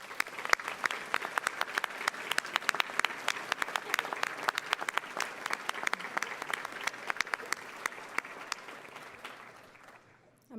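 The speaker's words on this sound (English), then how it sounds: "Please join me in thanking these folks with a huge round of applause" Large audience at a United Way of Summit County annual meeting breaks into sustained, loud applause, dense clapping from many hands that holds steady for about ten seconds before tapering off at the end.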